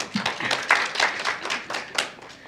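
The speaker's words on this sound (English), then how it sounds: "Zena and your team, you can clap for yourself." A small group claps at an apprenticeship graduation, with distinct uneven hand claps in a loose, quick rhythm, close and moderately loud, tapering off after a couple of seconds.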